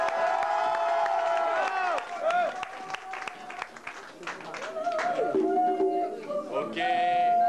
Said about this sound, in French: je vous demanderai un tonnerre d'applaudissements